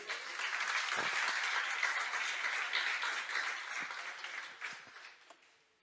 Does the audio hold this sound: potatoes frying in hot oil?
no